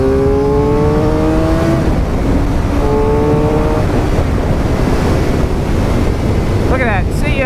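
A 2018 Suzuki GSX-R 750 motorcycle drops to third and accelerates to pass on an open road, its engine note climbing in two rising pulls under a constant heavy roar of wind buffeting.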